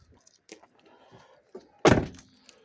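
A single heavy thunk of a Tesla Model Y car door, repaired after side-impact damage, shutting near the end, after some soft handling noises and faint movement.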